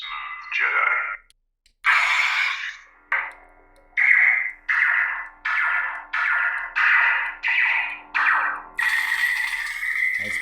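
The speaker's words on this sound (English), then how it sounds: "Nice blade lock up." A lightsaber blade lock-up effect from the Smooth Jedi sound font on a KR Saber Regiis Proffie saber, heard as a series of about ten loud, rhythmic crackling clash bursts over a low hum, ending in a longer sustained burst.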